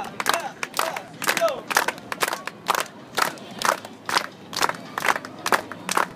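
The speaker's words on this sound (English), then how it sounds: "Everybody clap like this." Crowd at a Santa Monica pier breakdance show claps along in a steady rhythm, about two claps per second, loud and close, with scattered shouts mixed in.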